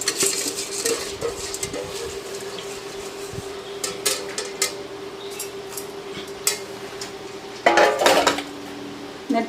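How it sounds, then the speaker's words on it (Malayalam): Washed rice is tipped into a mixer grinder bowl, with clinks and scrapes of a steel bowl and utensils and a soft patter of wet grains, under a faint steady hum and without speech. "മിക്സിയുടെ ബൗളിലേക്ക് കഴുകി നീറ്റാക്കി വെച്ചിരിക്കുന്ന അരി ആദ്യം അങ്ങ് ഇടുക."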